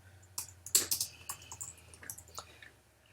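Quiet typing on a computer keyboard, a short irregular run of soft key clicks and taps up close in a calm room.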